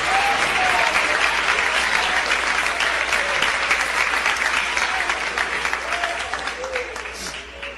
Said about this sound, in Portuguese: podem louvar a Deus com as palmas para Jesus